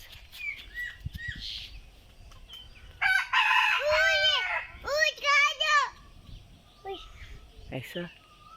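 Chickens cluck and squawk in short repeated bursts, close by, with a voice chattering in between.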